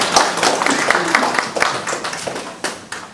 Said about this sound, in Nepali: ताली पड्काइदिनुहोस्।